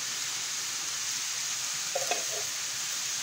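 Chopped onion and garlic frying in a pan, a steady soft sizzle throughout with a few brief light clinks of stirring near the middle; no voices.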